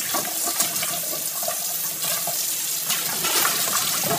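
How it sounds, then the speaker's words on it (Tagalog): Raw pig skin is rinsed under a running kitchen tap before boiling, a steady close splash of water pouring continuously over the skin throughout with no voices. "Huhugasan muna po natin bago natin i-boil siya."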